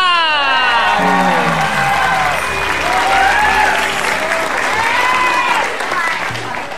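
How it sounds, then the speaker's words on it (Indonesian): Studio audience applause on an Indonesian comedy talk show, loud and sustained clapping with cheers and whoops, while a voice can be heard speaking over the crowd. "Saya mohon tepuk tangan untuk teman-teman dari Pondok Indah Katulampa."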